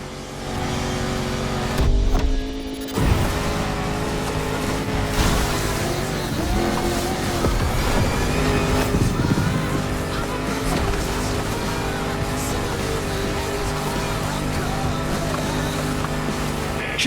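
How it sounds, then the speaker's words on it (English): A 400-horsepower Land Rover Defender drives in The Crew Motorfest, its engine droning loud and continuous with shifting revs under music and game sounds. "This Defender is like an old-fashioned rugby player. 400 horsepower under a 70-year-old bonnet."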